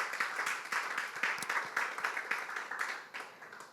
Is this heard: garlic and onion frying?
no